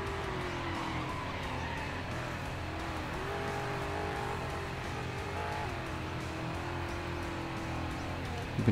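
A car in the game Carmageddon: Reincarnation drives into a tunnel, its engine a steady loud drone that shifts pitch slightly as it goes, with no talking.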